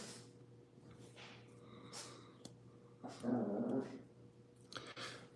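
A dog growling at a clothes dryer indoors, a faint low rumbling growl rising near the middle alongside soft snorts and huffs, over a steady low appliance hum.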